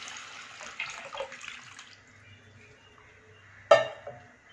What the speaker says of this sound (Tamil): அடுத்து வந்து புளி தண்ணி ஊற்றிக்கலாம்.